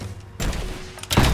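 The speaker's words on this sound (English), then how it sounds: "Although that didn't really look like much of an explosion." An explosion in Rise of the Tomb Raider, used to destroy a metal barrier, hits as two sharp, loud blasts about 0.7 seconds apart, each with a brief rumbling tail.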